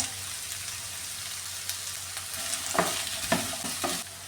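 Potato pieces go into a pan of fried shallots, giving a steady soft sizzle; after a few seconds several sharp scraping stirs of a utensil against the pan cut through, and no one speaks.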